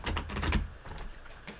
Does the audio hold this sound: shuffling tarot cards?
yes